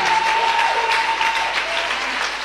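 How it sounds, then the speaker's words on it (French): A church congregation claps together in steady, continuous applause that fills the room, with a sustained sung or droned tone and faint voices underneath. "Give the Lord a big clap of it."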